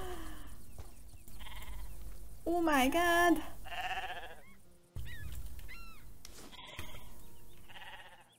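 Donkeys bray in the Star Stable Online video game, a loud harmonic honking call rising and falling over about a second, with shorter animal calls and a person talking around it.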